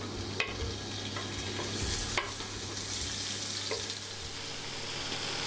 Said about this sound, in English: all we're doing is lightly frying it on both sides just to give it a bit of colour